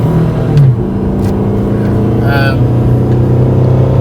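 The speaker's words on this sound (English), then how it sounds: "I am finally driving the Pontiac again." A Pontiac car being driven, its engine a steady loud low rumble throughout with a brief swell early on, heard from inside the car with a voice speaking over it.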